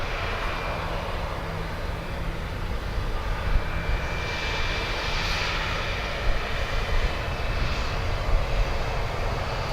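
Aircraft engines power up at Dublin Airport with a loud, sustained jet roar and a rising whine, steady and broad across the whole stretch with no talk.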